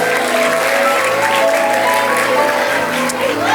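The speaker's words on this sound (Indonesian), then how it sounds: "Kasih tepuk tangan buat mereka." An audience applauds three boys who have come forward as volunteers, a steady wash of clapping filling the hall with voices murmuring and calling underneath.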